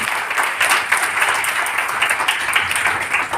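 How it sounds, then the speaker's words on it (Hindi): A dense burst of audience clapping fills the hall at an inter-school Hindi debate competition, steady and fairly loud, with no one speaking over it. "उनके लिए तो तालियां जोरदार बजती है।"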